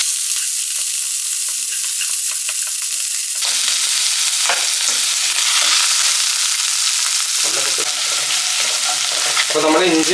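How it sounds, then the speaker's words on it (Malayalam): Ginger and garlic fry in hot coconut oil with mustard seeds, a loud, continuous sizzle broken by the scrape and clatter of a spoon stirring them around the pan. "ഇഞ്ചിയും വെളുത്തുള്ളി ഇട്ടിട്ട് നന്നായിട്ട് ഒന്ന് അതിൻ്റെ പച്ചമണം പോകുന്നോളം വരെ ഒന്ന് വഴറ്റിയെടുക്കണം"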